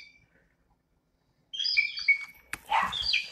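A songbird gives a short, squeaky, creaking call like a rusty gate swinging, a few bright chirps heard fairly clearly after a moment of quiet.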